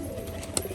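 A female Rajshahi pigeon gives a brief, soft coo over a steady background hiss, heard alone without talk.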